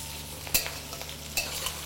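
Diced potatoes with a bay leaf fry in a wok while a spatula stirs them, giving a low steady sizzle with two sharp scraping clacks spaced apart, fairly quiet and close.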